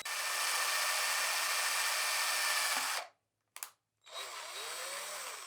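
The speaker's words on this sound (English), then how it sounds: "now we can go ahead and take the 2mm drill" A small power drill with a 2mm bit, boring into a bicycle handlebar, whines steadily for about three seconds, stops, gives a brief burst, then runs again, close and fairly loud with no talking.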